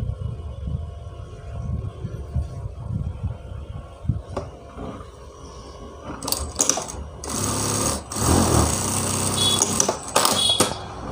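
A sewing machine stitches a lined blouse in bursts, starting after a quiet stretch of handling and running loud and steady with brief pauses and clicks toward the end, close to the microphone.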